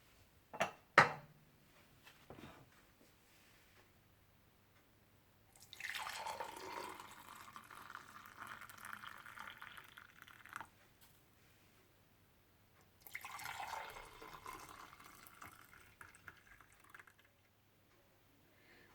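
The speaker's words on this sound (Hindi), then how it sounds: "जब सब कुछ अच्छी तरह से मिक्स हो जाए तो आप इसे मग में डाल लीजिएगा" Hot chocolate is poured into a mug in two separate streams, each a soft, steady liquid pour lasting several seconds, with a couple of sharp clinks at the start and quiet gaps between.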